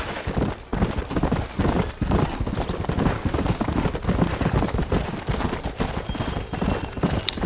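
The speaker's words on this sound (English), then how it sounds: "This horse runs as bad as you say he is." Horse hooves pounding at a gallop in the Red Dead Redemption western video game, a dense, continuous drumming of clip-clops with rumbling motion noise, loud and close throughout.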